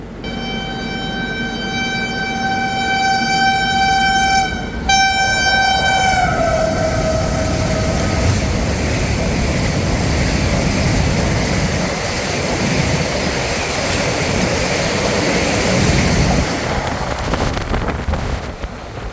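A train horn blares at the start, then the Vande Bharat Express roars past close by at speed, overtaking, a loud rushing rattle that continues with wind buffeting.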